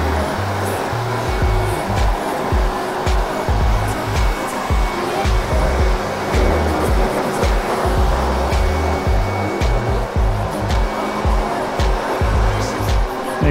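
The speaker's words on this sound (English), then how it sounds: "Make sure I air dry the seat so don't have to get a real wet butt going home." An air dryer blasts water off the seat of a Honda Goldwing motorcycle at a wash, making a steady loud rushing hiss with a throbbing low hum, close and continuous, heard alone.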